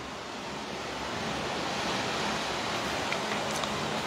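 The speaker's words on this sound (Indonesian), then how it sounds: "Hari ini anginnya angin Levante Timur." Levante easterly wind blowing steadily past an apartment, a broad continuous rushing roar with microphone buffeting and no voices.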